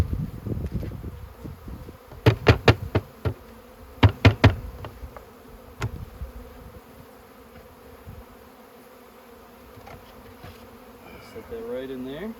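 Honeybees being installed into a hive buzz steadily in a low drone, with a cluster of sharp knocks and taps from handling the equipment partway through and faint rustling near the end.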